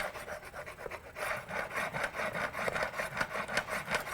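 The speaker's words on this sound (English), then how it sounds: "We have a little honing wheel over here, so we can run this through," A small honing wheel grinds burrs off a metal tool, giving a continuous close rasping, rubbing sound with a slightly pulsing rhythm.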